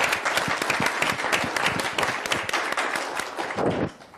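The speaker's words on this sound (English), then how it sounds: "So I think the city deserves a round of applause for that." A room full of people bursts into steady applause at a city council meeting, dense overlapping claps holding for about four seconds before tapering off abruptly near the end.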